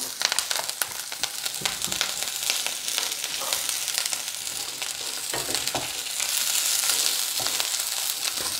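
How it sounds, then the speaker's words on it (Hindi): Ginger, garlic and chilies stir-fried in hot oil give a loud, continuous sizzle and crackle, with stirring scrapes running throughout and no voices. "देखिए मेरा जिंजर गार्लिक हो गया है स्टर फ्राई मैं इसमें बहुत सारी चिलीज डाल रहा हूँ"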